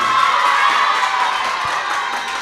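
A children's crowd cheers and claps loudly and steadily for a team qualified for the semi-final at a holiday garden contest, a dense continuous roar with shouting voices throughout.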